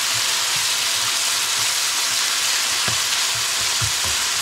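Noodles with chicken and spring onions being stir-fried in a pan, a loud constant hiss of frying with low knocks and scrapes as the food is tossed and mixed.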